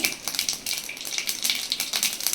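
Mustard seeds splutter in hot oil for a tempering, a dense, steady crackle of quick pops close up, with no voices.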